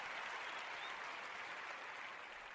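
Applause on a talk show, a steady hiss of many hands clapping at a low, even level that fades slightly toward the end, with no voices.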